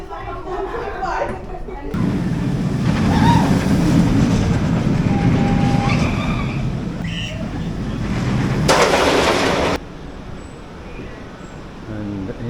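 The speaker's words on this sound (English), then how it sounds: "here's another look at the train while we slowly move along" A ride train on The Wave at Drayton Manor rolls slowly along its track, a steady low rumble with faint rattling and a brief louder burst, while people talk nearby throughout.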